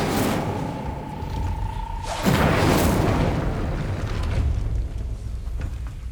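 An Incendio fire spell in the video game Hogwarts Legacy bursts out as a loud, deep whooshing boom. A tonal hum cuts off at the blast, and a rumbling roar follows and slowly fades.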